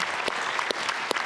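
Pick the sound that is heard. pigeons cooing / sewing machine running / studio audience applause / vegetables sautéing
studio audience applause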